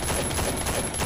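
Rapid sustained gunfire from an enemy's gun in the survival shooter Last Island of Survival, a dense continuous burst of loud automatic shots with no pause.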